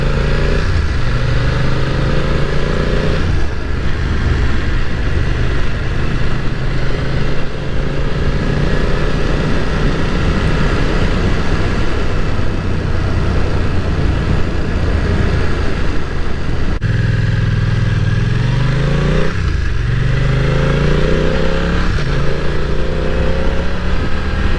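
BMW F900R motorcycle engine hums and revs while riding, a loud, continuous mid-range drone with gear-change dips and rising pitch sweeps, no talking.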